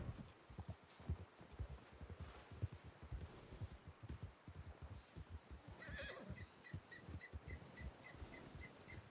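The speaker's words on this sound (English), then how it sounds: "there's two horses coming" Two horses approach in a Red Dead Redemption roleplay game, whinnying and snorting with hooves clip-clopping among rustling brush, the sounds steady and moderately close throughout.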